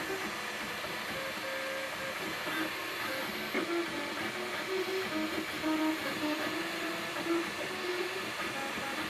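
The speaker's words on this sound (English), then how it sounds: "I'm going to stop the printer." A MakerBot Replicator 2 3D printer runs with a steady mechanical whir, and its stepper motors sound shifting tonal whines that rise and fall in short bursts at close range.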